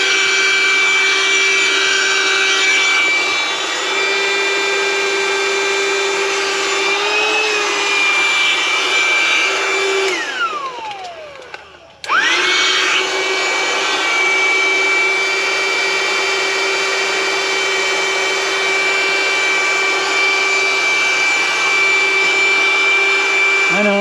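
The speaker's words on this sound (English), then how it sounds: "It'll just pump right up." Electric air pump inflating a Napier SUV tent beside a 2021 Nissan Rogue, a loud continuous whine that drops away briefly mid-clip before restarting and droning on steadily.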